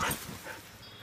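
Huskies give a short, faint whimper at bedtime, a brief high-pitched whine that fades quickly, with no talking over it.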